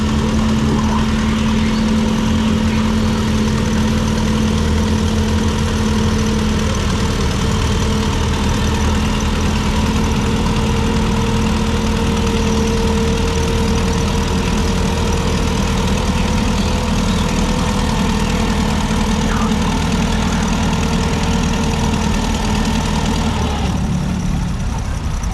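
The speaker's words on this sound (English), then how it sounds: "that will pull 124 feet for Mr. Schrock and his 2132 Twin City tractor." A Twin City 2132 tractor pulls a sled at a tractor pull, its heavy engine droning loud and steady, a low continuous roar for the whole stretch.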